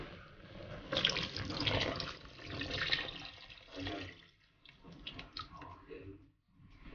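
Water splashes into a cooking pot of kare-kare in a steady pour for several seconds, then trickles off in a few smaller gushes, close by and moderately loud.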